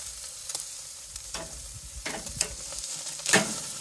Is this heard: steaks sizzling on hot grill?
yes